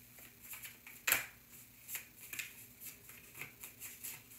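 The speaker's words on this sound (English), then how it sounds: "I'm just gonna keep shuffling." Tarot cards are shuffled by hand in soft, repeated riffles and pats, faint and close, with one sharper snap of cards near the start and no talking.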